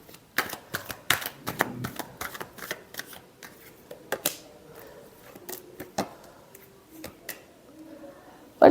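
Tarot cards being shuffled by hand, a quick run of crisp riffling flutters and soft slaps in uneven bursts, close and moderately loud, with a few isolated card taps toward the end.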